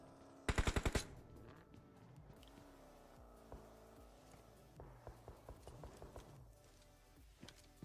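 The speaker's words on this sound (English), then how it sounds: "Royals of War in the distance are sending shots this way as well." Distant gunfire in a shooting video game: a quick loud burst of rapid shots at the start, then a series of fainter, evenly spaced shots later over a low background hum.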